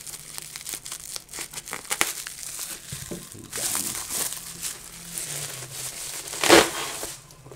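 Crinkling and crushing of plastic and cardboard packaging as a VGN N75 Pro keyboard box is pried open, a steady run of close rustles and crackles with a sharp louder tear near the end.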